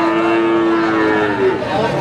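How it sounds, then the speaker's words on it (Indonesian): Cattle at a livestock market, with a loud, close, sustained low moo that holds steady under a busy background of crowd noise. "Ini ada sapi-sapi toro."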